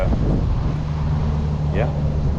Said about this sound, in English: It's super windy, guys.